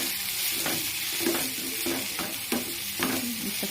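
Onion and a small tomato fry in a pan. A continuous close sizzle runs throughout, broken every half second or so by the knock and scrape of a spoon stirring, with no talking.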